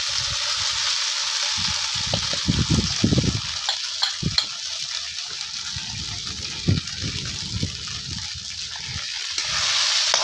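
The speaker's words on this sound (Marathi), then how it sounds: "आता हे शाबूत तांदूळ ह्याच्यात टाकते" Soaked sabudana (tapioca pearls) is tipped into a pan of hot oil with fried green chillies, producing a bright sizzling hiss with soft lumpy thuds and stirring scrapes, close up and fairly loud, without voices.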